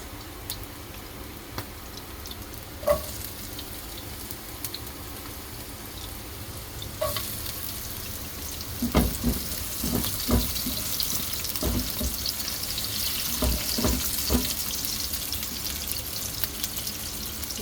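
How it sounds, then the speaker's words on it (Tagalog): Onions added to browned garlic in a pan for ginisang sayote tops, with a low steady sizzle and a few clinks and scrapes of stirring, close by and fairly quiet. "pag nag-brown na yung bawang, ilalagay natin ang sibuyas"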